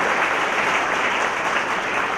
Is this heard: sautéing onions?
no